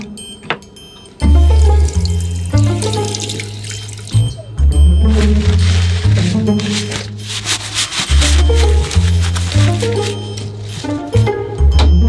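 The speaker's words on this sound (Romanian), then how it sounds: "Eu vreau să fac un duș." Shower water running aboard a train, a loud steady rush of spray with abrupt stops and restarts as the flow is cut and turned on again, near and continuous, with no talk.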